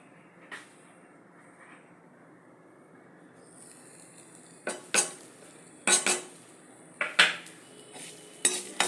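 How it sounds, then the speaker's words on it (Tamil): Grated coconut tossed with roasted lentils and spices in a pan off the heat, a few quiet scrapes early on, then a series of sharp metallic clanks and scrapes of a spoon against the pan, close up with no voices. "இந்த தேங்காயை போட்டு ஒரு புரட்டு எடுத்துடலாம்."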